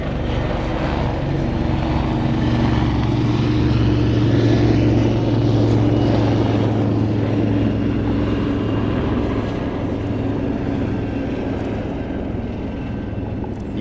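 A Westland Wasp, a small 1950s Fleet Air Arm shipboard helicopter, flies at an air display, giving a steady, loud rotor and engine drone that holds level throughout with a continuous low hum beneath.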